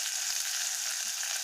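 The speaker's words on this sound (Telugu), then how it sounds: "ఎర్రగడ్డలు బాగా ఫ్రై అయింది" Onions frying with salt in a pan, a steady even sizzle with broadband crackle, moderately quiet and continuous with no voices.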